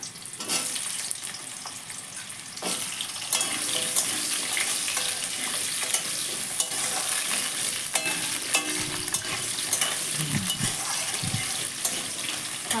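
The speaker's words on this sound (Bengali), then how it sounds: "ফোড়ন দেওয়ার পরে এবার আমি ডুমো করে রাখা কিছু আলু এর মধ্যে দিয়ে দিচ্ছি।" Diced potatoes dropped into hot oil tempered with dried red chillies sizzle and crackle steadily in a pan, with occasional stirring scrapes, close and continuous.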